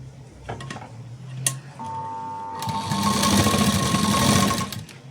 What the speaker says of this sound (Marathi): इथून आता आपण शिलाई सुरू करणार आहे।